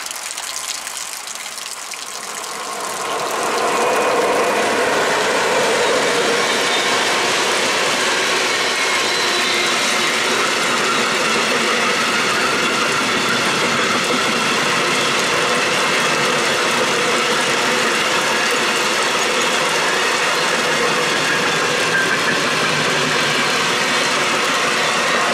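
A train passing through Würzburg-Zell station in the evening, heard as a steady, loud rushing roar that builds over the first few seconds and then holds strong and continuous, with no talk.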